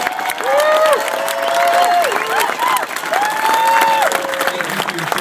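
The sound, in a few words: crowd applause for veterans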